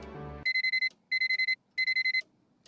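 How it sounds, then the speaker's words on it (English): Alarm clock in the Nancy Drew video game The Curse of Blackmoor Manor, three loud bursts of rapid electronic beeping, five beeps each, separated by short gaps after a brief low tone. "we will set the alarm for 8 a.m."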